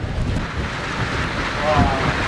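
Strong waves of Manila Bay crashing near shore during a storm with flooding, a steady roaring surf wash mixed with heavy wind buffeting the microphone, swelling slightly louder toward the end.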